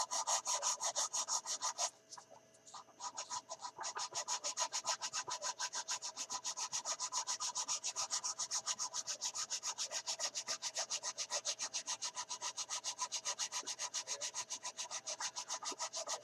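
An old Airfix 1/72 Short Sunderland plastic model kit is sanded with quick, regular back-and-forth rasping strokes, close and steady, broken by a short pause near the start before the rhythm resumes.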